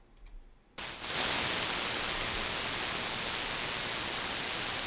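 HF radio static from an SDRuno software-defined radio receiver: a loud, steady hiss that switches on abruptly after a brief quiet moment and continues evenly to the end.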